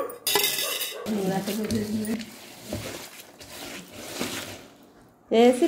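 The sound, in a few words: mixing chutney with garlic, salt and oil in a bowl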